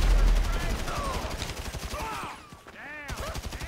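Rapid gunfire in GTA 5 Online during a drug deal heist, dense bursts and repeated shots running continuously under game sounds, with voices talking over it.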